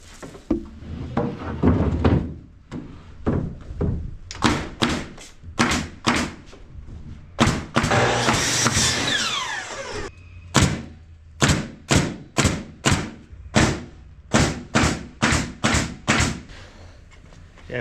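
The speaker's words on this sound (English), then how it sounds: "Any day of the week, I prefer a nail gun." Pneumatic nail gun driving nails into wood inside a sawmill building, a long series of sharp, loud thwacks, some in quick runs and others spaced apart, with a burst of air hiss partway through.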